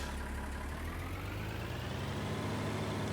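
A John Deere tractor engine idles in Farming Simulator 19, a low steady rumble throughout with no talking.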